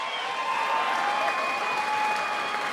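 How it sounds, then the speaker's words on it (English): Crowd at an MMA fight night applauds and cheers after a bout, a continuous wash of clapping and crowd noise, steady and loud, with a faint tone running beneath. "They deserve you a round of applause."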